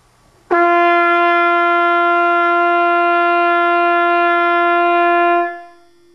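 A trumpet sounds one long open G with no valves pressed, a clear steady brassy tone held for about five seconds and then released, with nothing else playing.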